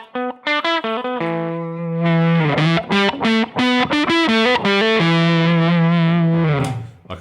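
An electric guitar plays through an EarthQuaker Devices Hoof Reaper fuzz pedal with all controls set flat, giving a loud, thick, distorted tone: quick picked notes at first, then sustained chords and riffs.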